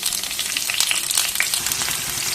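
Onions with green chillies frying in a pan for a pulao, giving a steady, close sizzle with busy crackling throughout and no talking.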